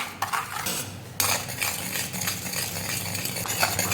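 A spoon scraping and clinking against a wok while mango pulp is stirred continuously for mango leather, close, busy metallic scrapes with irregular knocks, no speech.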